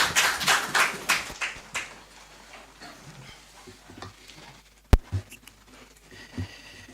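Applause at a presidential event in Ghana: a crowd's clapping patters loudly at first, then thins to scattered claps and fades into a quiet, murmuring room.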